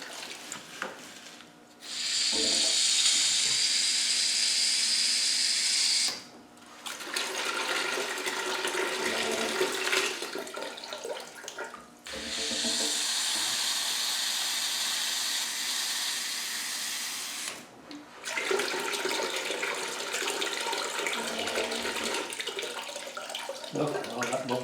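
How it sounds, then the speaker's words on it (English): A water hose back flushing a car radiator, with steady rushing and splashing water in long bursts separated by short breaks, fairly faint, with people speaking at times. "And now we're going to back flush it."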